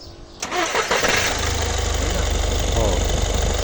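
A Foton Transvan engine cranks and catches, then settles into a steady idle with an even low rumble, close and loud, after a brief quiet start.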